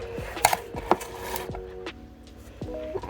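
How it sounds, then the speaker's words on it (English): Knife chopping strawberries on a cutting board, a handful of sharp, quiet taps spaced irregularly, close and otherwise fairly quiet. "And then just keep chopping."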